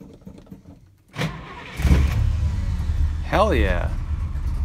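A Plymouth Roadrunner in upstate New York cranks briefly and then catches, settling into a loud, steady, rumbling idle close by, while a voice briefly cuts in over the running engine.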